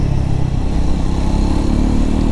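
Triumph Scrambler 400X motorcycle engine running steadily in third gear while riding, a loud, close, continuous low drone with no pauses or talk.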